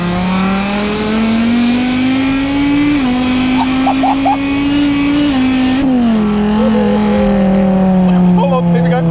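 A BMW M6 engine drones loud and close from inside the moving car, with its pitch climbing steadily and dropping at two gear shifts before rising again.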